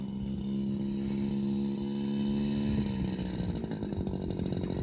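A Jodel light aircraft engine runs steadily at a smooth, even idle, loud and close, with a low rumbling drone throughout.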